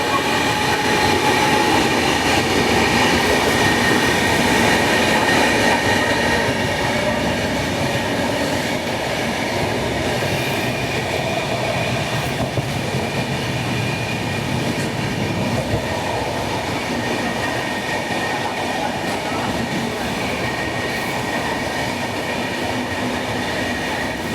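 The Shalimar Thiruvananthapuram Central Express passes close by from the opposite direction, a loud continuous rumble of wagons and wheels with rattling clatter and faint squeal that holds steady for the full length.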